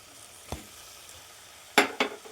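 Dried sardine stirred into wilted taro leaves in a pan: a faint scrape, then two quick sizzling stirring bursts near the end, close and brief, with no talk.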